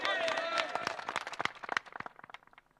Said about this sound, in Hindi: ताली कमजोर बाजी भाई है ना